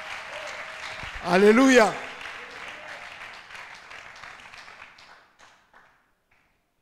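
A congregation applauds in a church, the clapping wash running beneath a voice that cries out loudly, then the applause gradually thins and fades into near silence.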